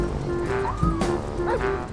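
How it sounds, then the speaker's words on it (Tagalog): A dog whimpering in the video game GTA V, a short high whine rising and falling over game background sounds and a brief thud. "Umiyak na yung aso."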